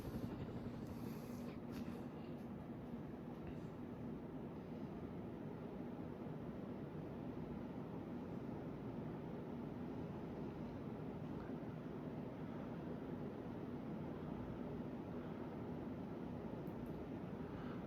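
A Hunter Designer's Choice 52-inch ceiling fan spins on high at about 215 RPM, giving a steady, faint, broadband whoosh of moving air with a low hum and no talking.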